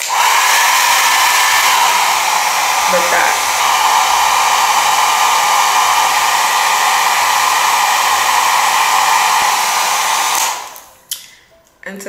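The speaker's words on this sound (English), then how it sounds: "you gotta go in with your blow dryer, and I use on a high heat but medium power" A blow dryer on high heat, medium power, roars steadily for about ten seconds, then cuts off, followed by a few brief words.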